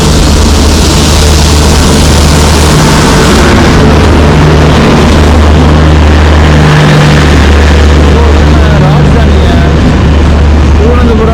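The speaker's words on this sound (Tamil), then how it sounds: "ஒரு ட்ரெயின் வந்துருச்சுங்க" A train arrives at a station on India's Konkan Railway coastal line, a loud, close, steady engine drone with a heavy low hum that dominates throughout, with a voice occasionally heard.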